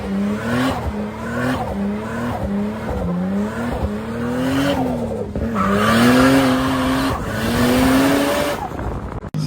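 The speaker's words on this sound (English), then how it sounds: "Wow, some skids." Car tires skidding and squealing on a winding hill road, with an engine revving through repeated rising pulls and a loud drawn-out screech near the end.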